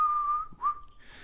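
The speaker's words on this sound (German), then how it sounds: "Jetzt hören wir ein paar Mal das Pfeifen." A single sustained whistled note, then a short rising whistle that slides back down, heard alone and fairly clear during a Football Manager 2022 stream.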